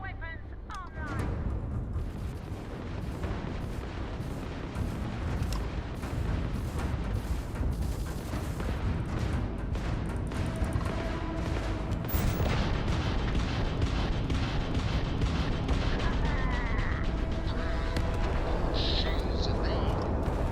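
Spaceship weapons firing during a space combat in the Starfield video game on Xbox Series X, rapid repeated blasts and booms over a dense, continuous rumble, loud and sustained.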